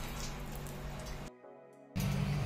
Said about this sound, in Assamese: বাদামকেইটাও ইয়াত ভাজি লওঁ